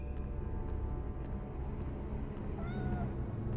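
A cat meows once, a drawn-out rising and falling cry, in the PS1 video game Harry Potter and the Philosopher's Stone, heard over a dense, low game soundtrack.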